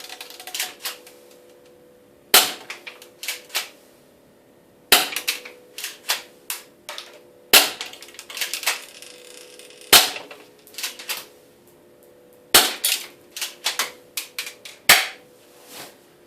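Airsoft gun firing at indoor targets, with sharp, close snaps arriving in bursts of several rapid shots separated by short pauses, each followed by quick ticking impacts, in a quiet room.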